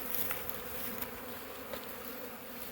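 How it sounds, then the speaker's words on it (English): A dense, steady drone of honeybees crowding a drawn-comb frame lifted from a package-colony hive, buzzing continuously and fairly close, with no talking. "this is the first frame that actually has bees on it"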